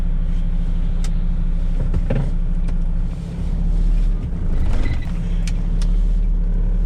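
A truck driving along the road, a loud, continuous engine drone and tyre rumble from inside the cab, with a brief dip and swell in the middle.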